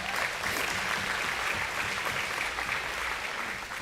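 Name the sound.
round of applause for auction company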